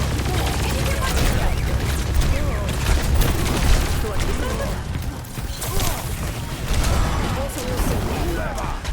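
Video game gunfire during an online shooter session, heard as a dense, continuous barrage of loud shots and booms blended with game effects. People talk over it.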